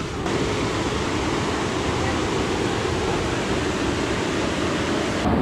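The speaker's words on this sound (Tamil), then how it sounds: "தண்ணி ஃபோர்ஸ் அதிகமாக இருக்குங்க" A loud, constant roar of water rushing through a dam tunnel in Idukki, Kerala, dense and unbroken from start to finish with no other sounds standing out.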